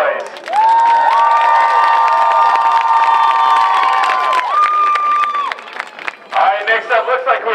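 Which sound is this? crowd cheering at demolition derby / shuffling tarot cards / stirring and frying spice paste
crowd cheering at demolition derby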